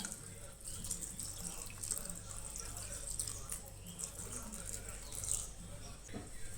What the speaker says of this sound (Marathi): आतां भितर दूध घालया आमी.